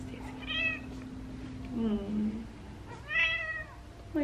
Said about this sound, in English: the cat's screaming outside the door